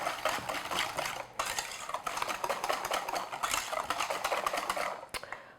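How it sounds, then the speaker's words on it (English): Wet muffin ingredients, including yogurt and sugar, being whisked in a bowl, with quick repeated clinks and scrapes of the whisk against the bowl, close and fairly quiet, with a brief pause midway. "Whisk that in."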